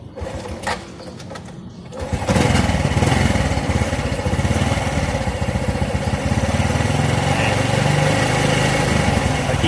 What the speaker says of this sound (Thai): ทีนี้ลองสตาร์ทเครื่องยนต์